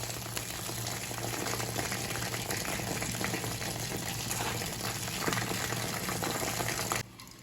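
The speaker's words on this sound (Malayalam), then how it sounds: "ഒന്ന് ഫ്രൈ ആവട്ടെ, അതുവരെ ഒന്ന് വെയിറ്റ് ചെയ്യാം." Chicken kebab frying in hot oil, a steady dense sizzle and bubbling that holds evenly throughout before dropping slightly at the end.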